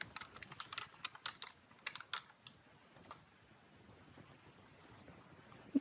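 Quick bursts of typing on a computer keyboard, close and crisp, with a flurry of key clicks that thins out into a quiet pause and a final tap.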